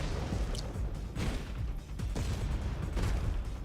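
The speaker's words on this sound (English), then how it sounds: "flames erupt through the base as explosions thunder in rapid succession" Rapid explosions from the video game Punishing: Gray Raven, with several loud broadband blasts bursting in quick succession over a constant dense rumble.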